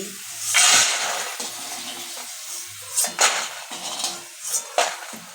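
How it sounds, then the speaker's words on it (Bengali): Fried peas are scooped from a pan with a strainer after frying, giving scraping metal, sharp clinks and light rattling against a faint lingering sizzle. "এবার আমি এই যে ছেঁকে ছেঁকে উঠিয়ে নিচ্ছি"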